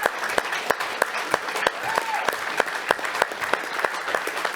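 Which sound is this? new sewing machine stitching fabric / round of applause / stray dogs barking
round of applause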